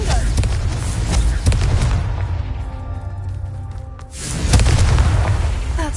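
The Confringo fire spell from the game Hogwarts Legacy bursts into a loud, booming blast with a rumbling tail, followed by a second heavy impact near the end.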